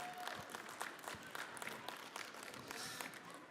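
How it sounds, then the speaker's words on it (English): Applause fills a hall during an annual general meeting morning session, an even, continuous patter of many hands clapping at moderate distance, sustained throughout without letup. "A big applause to Glenn Bjorkland."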